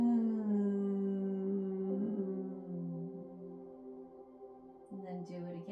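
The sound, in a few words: humming with lips closed on the exhale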